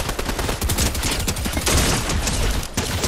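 Dense, continuous automatic gunfire from a turret in Fortnite rattles loudly and close for a few seconds, with no talking.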